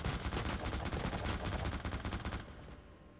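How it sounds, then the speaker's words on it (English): A mounted machine gun in the video game The Suffering fires a rapid, continuous burst of loud, close shots for about two and a half seconds, then cuts off into a fading echo. "Oh jeez, they have a mounted machine gun."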